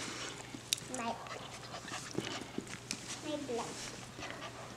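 Mini poodle puppy panting with a few soft whimpers, close by and fairly quiet, while a child and an adult talk over it.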